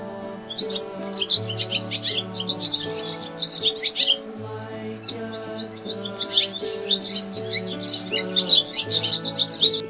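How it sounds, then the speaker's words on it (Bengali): Birds sing and chirp steadily in the open, rapid bright twittering throughout, with the soft low cooing call of a dove in a tree repeating underneath. "ঘুঘু পাখি ডাকছে গাছে।"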